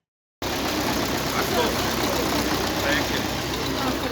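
Tractors and trucks gather to collect winter wheat, engines idling and rumbling at a steady mid level after a sudden start, with faint background activity and a speaking voice over the top.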